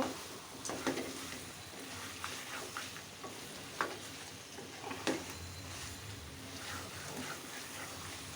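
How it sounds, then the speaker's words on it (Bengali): Potatoes are stirred into browned mutton curry in a pan, with a soft continuous sizzle under irregular scraping strokes and a few sharper knocks from the spoon, all fairly quiet and close. "এখন দিয়ে দিলাম আলু আলুটা দিয়ে ভালো করে নেড়ে চিড়ে দিব"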